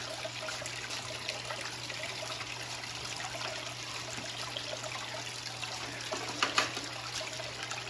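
Water runs sand across two micro dream mats for winter gold prospecting, making a steady, faint trickle and wash with a constant low hum beneath it and no talk.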